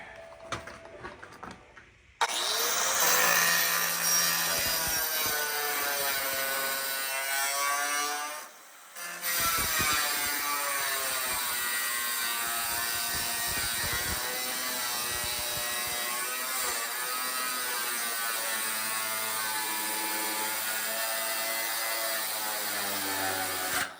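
A power tool cuts and trims through the metal roof of a VW during a top chop, a steady high whine running continuously after a short pause near the start, close and loud.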